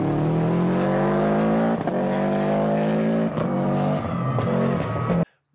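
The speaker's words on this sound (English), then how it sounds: "The unequal length header on the STI, on the EJ20, EJ25, has that iconic boxer rumble that we've all come to know and love." A Subaru STI boxer engine, EJ20 or EJ25, with an unequal-length header, revs loudly and continuously, its harmonic rumble rising and dipping with throttle for several seconds before cutting off abruptly.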